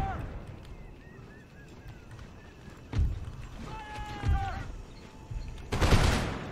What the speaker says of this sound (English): My marines are firing right behind them